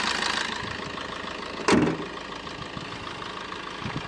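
A 2017 Maruti Ertiga VDi diesel car idling, a steady low engine hum heard close, with a brief louder knock or clunk in the middle.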